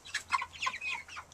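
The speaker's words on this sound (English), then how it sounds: "I have no idea what kind of chicken that is." Several soft, quick clucks from a young chicken among a flock of meat birds, fairly faint and close, in a short rhythmic burst with no talk over them.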